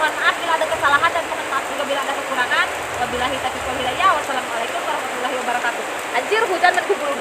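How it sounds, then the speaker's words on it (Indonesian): Heavy rain driven by wind pours down steadily outdoors, a dense continuous hiss of drops on surfaces that stays loud and even throughout, with no other clear sound rising above it. "Ya hujan di sini gede."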